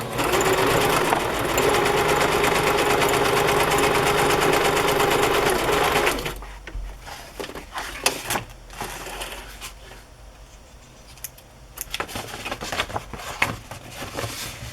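A sewing machine stitches an embellishment onto a textbook journal page, running in a loud continuous burst for about six seconds, then fading into scattered softer clicks and handling noises.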